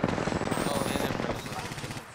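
Apex Legends gunfire rattles in a dense, continuous burst, loud and close, with game sounds and a voice mixed in.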